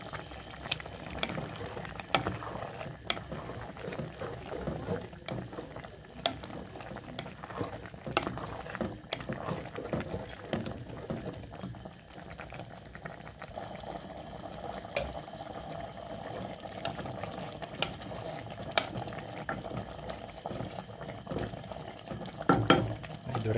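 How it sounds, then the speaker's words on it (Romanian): Wild poplar bolete mushrooms simmer in a pot of water, a steady bubbling and popping close by that runs continuously, with no voices. "Și acum o lăsăm să fiarbă."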